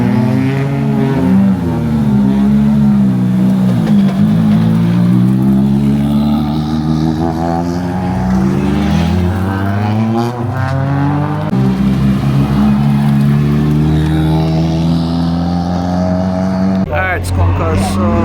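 Rally cars at Rally Barbados, including a test car out on the course, give a loud, sustained engine drone with rising and falling revs throughout, mixed with crowd noise and voices.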